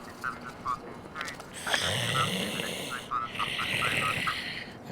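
Snoring-like grunts and nasal rasps come in short bursts, mixed with squeaky cartoon sounds and other voice noises, likely a voice imitating snoring in a Super Mario cartoon cops skit.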